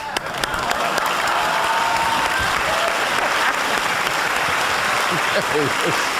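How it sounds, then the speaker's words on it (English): A studio audience applauds steadily and loudly for several seconds, a dense wash of clapping with a few voices and whoops rising near the end. "please welcome him with a nice round of applause"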